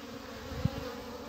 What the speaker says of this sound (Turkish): uğultu yapmaya, vızıltı yapmaya devam ediyorlar